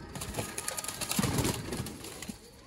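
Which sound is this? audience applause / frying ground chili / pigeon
pigeon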